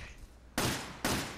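Two loud, sharp gunshots in the video game Resident Evil 5, about half a second apart, each a sudden broadband blast with a short decaying tail over quiet room noise.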